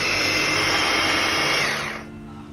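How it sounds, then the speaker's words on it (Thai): An electric blender purees the savory filling for Thai khanom tian with a loud, close, steady motor whir that winds down and stops near the end. "อันนี้เราก็เอามาปั่นนะคะ"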